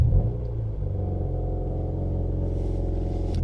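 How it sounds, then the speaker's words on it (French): A car engine fires up and settles into a deep, steady idling rumble, heard close and loud with no voices over it. "je vous fais le petit plaisir du démarrage"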